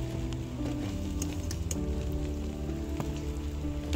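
Potatoes fry in hot oil, a steady dense sizzle and crackle with scattered pops, close and continuous throughout.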